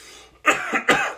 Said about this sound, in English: sorry for the cough, guys.